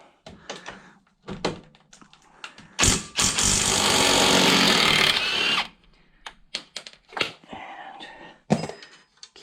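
An impact wrench works on the front strut of a 2012 Mini Cooper R60, a loud sustained buzzing rattle for a few seconds, surrounded by clanks and knocks of tools nearby.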